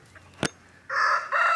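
A rooster crows on a farm, one loud drawn-out call rising after a sharp click, close and clear with no talking over it.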